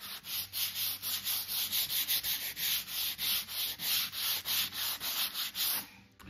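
Steady back-and-forth hand sanding of plaster, a rhythmic scratchy rasp repeating about three times per second, close and alone, then stopping at the end.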